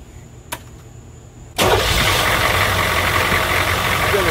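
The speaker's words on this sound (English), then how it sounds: "So let's go ahead and start the engine now." A click, then a Humvee's diesel engine cranks and fires up abruptly, settling into a loud, steady rumbling idle close by.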